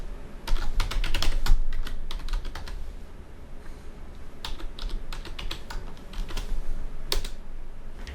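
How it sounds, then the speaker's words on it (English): Someone types a password on a computer keyboard at login after restarting a Pop!_OS Linux install. Close, crisp keystrokes come in quick bursts separated by short pauses, with no talking. "I need to enter my password."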